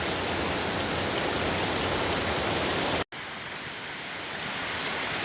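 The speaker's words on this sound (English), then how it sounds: "The waterfall in the background" Hanakapi'ai Falls on the Kalalau Trail in Kauai pours in a dense, steady broadband rush, loud and continuous, with a brief dropout partway through.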